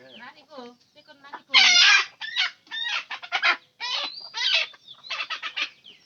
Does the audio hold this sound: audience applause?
no